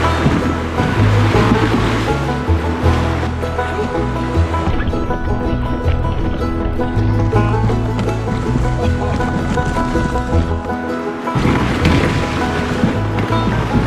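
A kayak runs a river rapid on the Llano River in Texas, with loud constant rushing whitewater and wind buffeting the microphone throughout.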